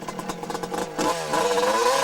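A motocross bike from 1986 revving hard for a practice start, its loud engine rising in pitch and holding a rough, buzzing drone close by, alone without voices.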